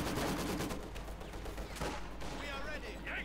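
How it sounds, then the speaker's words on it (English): Maxim machine gun fire in the World War II strategy game Company of Heroes 2, a dense rattling stream of rapid shots blended with battle noise, loud and continuous before easing off near the end. "We got some Maxims out though. Bit of machine gun fire there might prove advantageous versus Fancy's Truppen."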